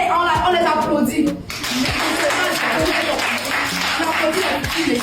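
A crowd applauds steadily and loudly for several seconds, the clapping running continuously with some chuckling and voices mixed in.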